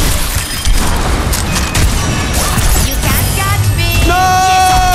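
Booming blasts and crashing impacts in a video game, dense and loud across the whole stretch with clattering debris, a rising tonal whine near the end, and faint voices underneath.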